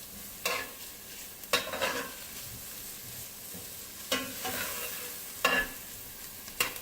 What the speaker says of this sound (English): I'm gonna let that saute up a little while longer.